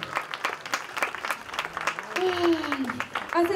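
Audience applause for performers at a street storytelling show in an old town quarter: sustained dense clapping throughout, with voices and shouts mixed in and some whistling or tonal sounds near the end.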